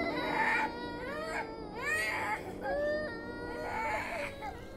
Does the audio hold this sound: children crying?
yes